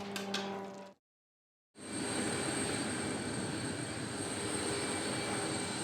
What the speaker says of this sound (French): Sur l'aéroport de Kaboul, nous assistons au chargement d'un Antonov 124, l'un des plus gros avions au monde.